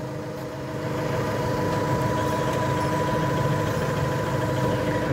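A BTX D70 7-ton forklift engine running steadily nearby, a constant low mechanical drone that swells slightly after the first second and then holds even.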